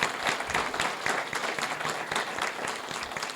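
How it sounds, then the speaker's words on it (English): Warm audience applause in a room at a township by-election council candidates forum, a dense, steady patter of many hands clapping with no talk over it. "Please, everyone in the room, join me in a round of applause"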